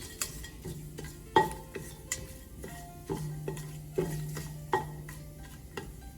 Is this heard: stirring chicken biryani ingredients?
yes